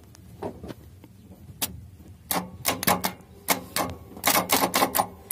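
Starter on a 24V Zoomlion crane truck clicks and snaps in short irregular bursts without the engine turning over, sharp close-up clacks growing busier toward the end, no talk over them.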